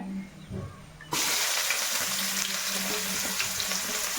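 Chopped onions, three large ones, go into a hot pan with chicken for a coconut-milk chicken curry. Soft rustling comes first, then a sudden loud, steady sizzle that stays dense and close, with faint stirring clicks.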